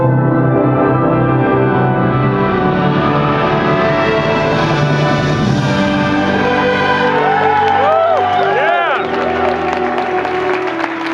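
A music ensemble at a conducting symposium shouts together in one loud, sustained mass of voices that ends in a few falling whoops.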